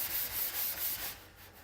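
Red Scotch-Brite abrasive pad scuffing a metal surface in an X-shaped pattern, a steady close hiss of rubbing strokes that fades slightly toward the end.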